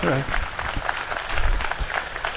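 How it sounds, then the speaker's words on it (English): An audience at a university convocation applauds steadily, with scattered clapping filling the room and some voices murmuring underneath. "So I think we need to give a big clap to my Honorable Vice Chancellor."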